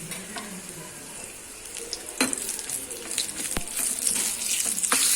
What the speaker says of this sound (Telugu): ఇప్పుడు ఇందులో ఎండుమిరపకాయలు వేసేసుకోవాలి ఫస్ట్.